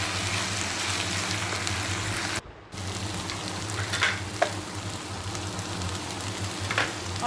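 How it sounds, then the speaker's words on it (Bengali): A spiced mixture of turmeric and salt sizzles and fries in a pan while being stirred, with steady crackling and a few scraping clinks, one brief pause interrupting it. "এখন এটাকে ভালো করে মিশিয়ে নিচ্ছি"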